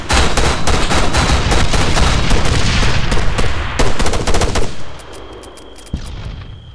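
Intense Arma 3 firefight with loud, overlapping machine-gun bursts and rifle shots for several seconds. The firing then drops away abruptly, leaving a quieter background broken by one more isolated shot.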